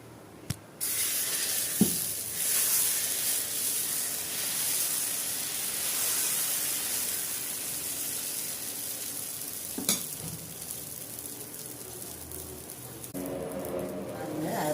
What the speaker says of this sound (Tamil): இப்போ நம்ம தோசை ஊற்ற போகிறோம்